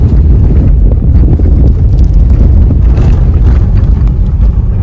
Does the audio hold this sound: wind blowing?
yes